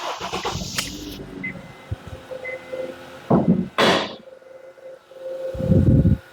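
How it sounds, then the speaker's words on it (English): A Honda Accord engine cranking and catching, with short grinding bursts before it fires up and settles, close and fairly loud, no talking. "I'm gonna start the car. Okay. Let me start the car right now."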